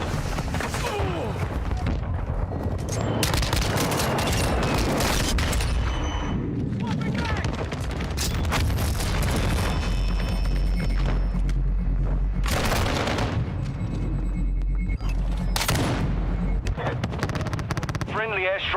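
Continuous heavy gunfire and booming explosions from a friendly gunship and airstrike in Call of Duty Warzone, loud and chaotic throughout, with in-game voice callouts and players talking over the barrage.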